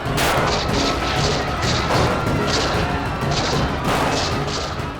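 A continuous barrage of loud gunfire, rapid cracks and booms layered over each other with no pauses.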